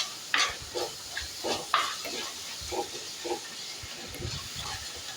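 A pan of ripe tomato and onion for a sardine chilli curry being stirred, with scattered scraping and clinking strokes of a spoon over a faint sizzle, soft and fairly close, with no talking.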